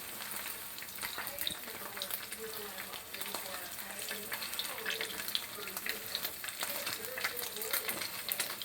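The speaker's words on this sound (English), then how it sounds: "I'm going to let that fry for 3 minutes on one side" Salmon fillet frying skin side down in a pan, a steady, fairly quiet crackling sizzle with scattered pops that runs evenly throughout with no talk.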